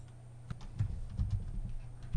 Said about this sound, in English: we can start typing and it will show all of those applications